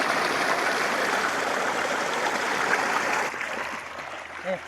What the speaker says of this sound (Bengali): এখানে আমাদের মোটর থেকে জলটা নেওয়া হচ্ছে